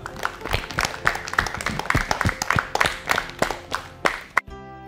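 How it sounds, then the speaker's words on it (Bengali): An audience claps at a children's quiz programme marking Rabindranath Tagore's death anniversary, a dense ragged patter of many hands at moderate loudness that cuts off abruptly near the end. "আমরা করতালির মাধ্যমে একে অন্যকে অভিনন্দন জানাবো"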